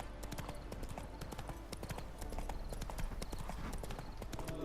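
Horse hooves clip-clopping in The Witcher 3: Hearts of Stone, a quick steady gait of dense close hoofbeats throughout, with faint voices in the background.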